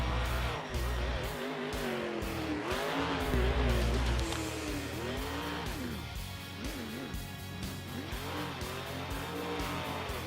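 The Willman monster truck roars through a freestyle run at a New Orleans event, its engine revving and surging in loud, wavering bursts with tire noise, rising in the first seconds then easing.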